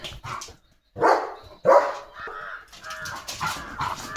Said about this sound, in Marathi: भुंकत भुंकत लिओची झाली दिवसाची सुरुवात